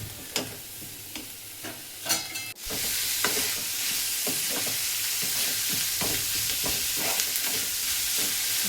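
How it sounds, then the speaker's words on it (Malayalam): Onions fry in a pan under repeated spoon strokes, a few sharp clicks at first, then a loud steady sizzle punctuated by rhythmic stirring scrapes, close and without speech. "ഈ ഉള്ളി ഇട്ടിട്ട് നന്നായിട്ട് ഒന്ന് ഇളക്കിയെടുക്കുക"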